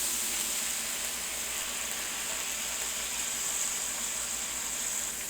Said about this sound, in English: Let's deglaze our pan here a little bit with some water.